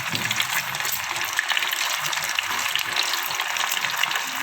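Egg-coated pentol meatballs frying in hot oil, a dense continuous sizzle and crackle up close, steady throughout with no voices over it.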